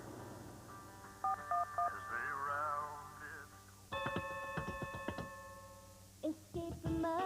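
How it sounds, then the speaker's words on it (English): Touch-tone telephone keypad tones in a TV advertisement for 411 directory assistance: a quick run of clear, close beeps follows spoken voices and music. "Just dial 411 for local and national directory assistance."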